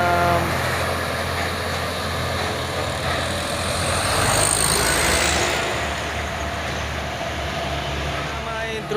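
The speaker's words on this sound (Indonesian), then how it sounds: "Main truk yang menanjak bosku." Heavy-laden trailer trucks, a Japanese rig and a Chinese rig, grind up the steep Bukit Kodok hill, a steady loud engine drone with road rumble continuing throughout, no clear breaks.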